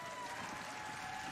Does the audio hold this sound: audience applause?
yes